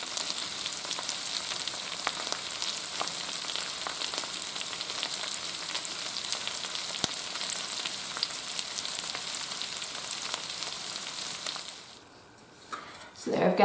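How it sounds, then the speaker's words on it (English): Country fried potatoes fry in a pan with a steady, bright sizzle that runs close and continuous for most of the stretch, then drops off sharply near the end with a brief clatter. "So there I've got my country fried potatoes."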